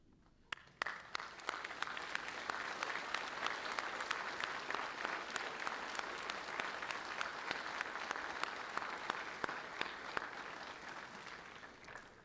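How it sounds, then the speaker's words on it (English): An audience at a Fort Jackson basic training graduation ceremony bursts into applause after a brief pause, producing sustained, dense clapping from a large crowd that holds steady before fading slightly at the end. "please join me in a round of applause"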